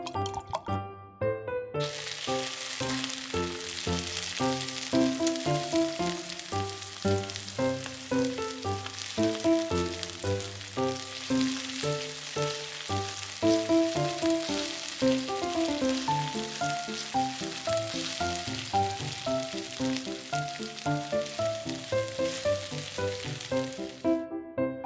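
Food sizzles steadily as it fries in cooking oil for a spicy grilled eel and Cheetos rice ball dish, a continuous crackling hiss partly masked by loud, constant background music.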